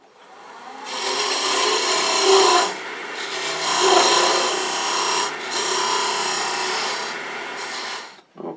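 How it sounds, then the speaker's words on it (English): A tenon for a ferrule is cut on a wooden tool handle spinning on a woodturning lathe, likely with a beading and parting tool. Close, loud, steady rasping scrapes come in several long passes separated by short pauses, with no talking. "I'm going to go ahead and put a tenon on it for the ferrule"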